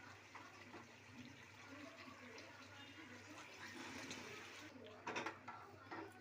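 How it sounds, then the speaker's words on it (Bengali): Water is poured into a pot of red, spicy chicken curry after the meat has been browned, a quiet continuous splashing and gurgling with a brief louder burst of liquid near the end. "মাংসটা পরিমাণ মতন জল দিয়ে দিলাম।"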